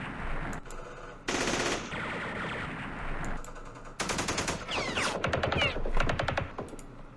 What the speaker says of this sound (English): but we'll just continue firing.